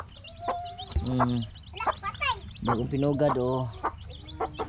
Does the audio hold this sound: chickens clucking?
yes